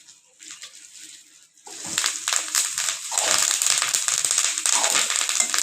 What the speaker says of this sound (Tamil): கருவேப்பில் வந்து ஃப்ரெஷ்ஷாக இருக்கிறனால பார்த்திங்கன்னா அந்த சவுண்டு வருது